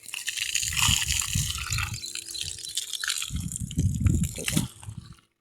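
Water from a solar-powered motor pump in a village gushes and splashes steadily, loud and close, with brief dips where the flow sounds thinner before it fades out at the end.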